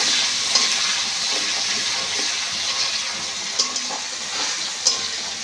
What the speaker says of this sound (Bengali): দিয়ে বেশ ভালো করে নেড়ে চেড়ে দেবো একটু।